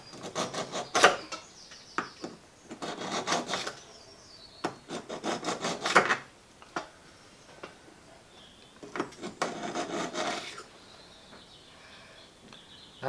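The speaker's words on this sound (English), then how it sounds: "A lot of people would sharpen knives by dragging them through one of these things" A knife is dragged through a pull-through sharpener in a series of short, raspy grinding strokes, a few clustered bursts separated by quiet pauses, close and fairly faint.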